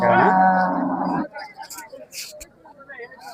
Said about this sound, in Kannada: ಫ್ರೆಂಡ್ಸ್ ಒಂದು ಹಸಿದೆ ನೋಡ್ರಿ